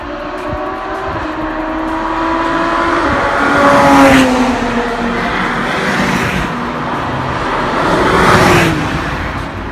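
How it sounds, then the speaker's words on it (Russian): A Porsche car under way, its engine drone rising and falling through gear changes with loud swells of road and wind noise, heard close and continuous throughout with no talking. "На Порше поехали."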